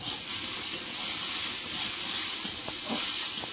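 A pan of vegetable curry frying and being stirred, giving a steady broad sizzle and hiss close up, with a few faint scraping knocks and no voices.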